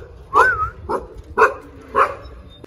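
A dog barks four times in short, separated bursts, close by and fairly loud, with one bark rising into a drawn-out whining yelp; no talking is heard.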